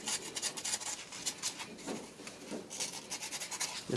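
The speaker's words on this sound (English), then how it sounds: "but basically I just sanding this" Close, steady rasping of sandpaper on an electrical connector in a 1993 Honda Civic, with quick back-and-forth strokes in a continuous scratchy rhythm and no talking.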